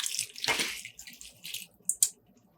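Soaked basmati rice poured into boiling water for lamb biryani, a few splashing bursts and watery sloshes in quick succession, close and fairly quiet.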